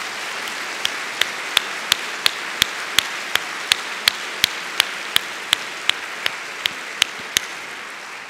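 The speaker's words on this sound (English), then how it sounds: "Let's give them a round of applause" Audience applause at a university State of the University address: a soft, even wash of clapping under crisp, evenly spaced loud claps from one nearby person, steady throughout.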